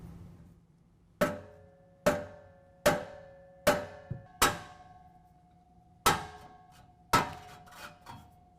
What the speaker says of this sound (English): I'm going to use a rubber mallet